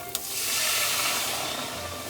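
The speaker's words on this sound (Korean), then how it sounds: "자 이제 이 크림을 바로 넣겠습니다" Fresh cream hits a hot pan for cream pasta, setting off a steady close sizzle and hiss after a brief splash at the start, with no talking.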